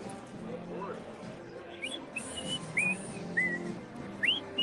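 A person whistles a few short, rising and sliding notes over background chatter and murmuring voices.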